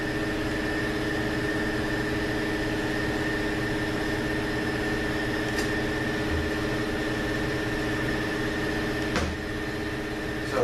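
An air compressor runs steadily in a workshop during a Borg Warner Model 8 transmission teardown, a constant droning hum with a tonal whine and no breaks, plus a couple of faint clicks.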